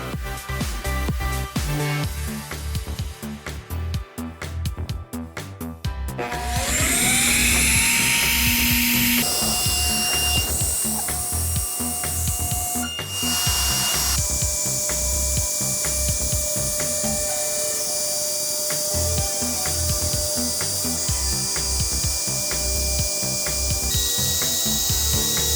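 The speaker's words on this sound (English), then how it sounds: "Everything I'm darkening in here is going to get cut out by using my rigid trim router." A Ryobi trim router fitted with a narrow-tipped profile bit carves the edges of a Cubs-themed wooden sports sign, its loud, steady high-pitched whine holding almost continuously, with brief dips as the bit bites into the wood.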